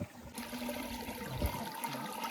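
Water flows and gurgles steadily through a farm field, a continuous rushing wash close by with occasional splashes and no voices.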